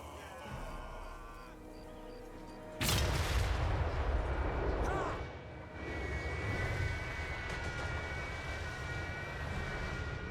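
Cannon artillery fire in the fantasy battle game Total War: Warhammer III, a sudden heavy boom breaking into droning battlefield ambience, followed by a rolling rumble and continuing low background noise.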